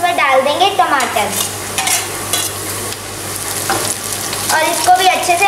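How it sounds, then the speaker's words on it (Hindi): Onions and tomatoes sizzle loudly in a pan for kanda poha and are stirred and mixed. A constant frying hiss runs under repeated scraping strokes throughout. "और इसको भी अच्छे से मिक्स कर लेंगे और गैस का फ्लेम अब हम हाई कर देंगे"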